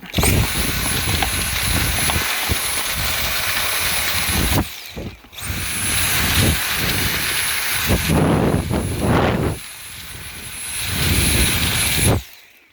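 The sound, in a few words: Dyson V7 Trigger vacuum on max suction cleaning car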